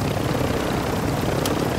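Steady droning video game helicopter rotor and engine noise, a continuous low rumble with a whooshing hiss above it, loud and unbroken throughout.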